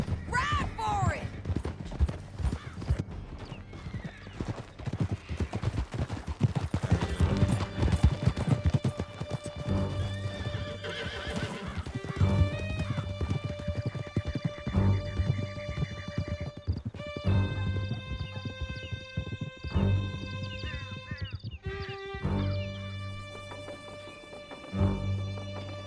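Horses gallop hard through a canyon in Red Dead Redemption 2, with dense clip-clop hoofbeats, neighing, and scattered gunshots under a swelling musical score, while voices shout over the chase.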